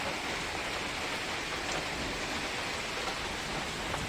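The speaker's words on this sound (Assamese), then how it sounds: "বাহিৰত পূৰা বতাহ বৰষুণ।" Steady rain and wind outside during a stormy night in Assam, a dense continuous hiss with no breaks and a few faint drips, with no voices.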